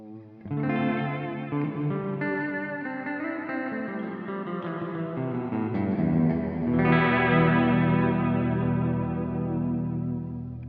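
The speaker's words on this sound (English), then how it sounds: "that's for sure a modulated reverb" A sustained electric guitar chord through a modulated reverb pedal, washed in lush, wavering reverb with a shimmering, swirling tail; a second chord rings in brighter and louder partway through.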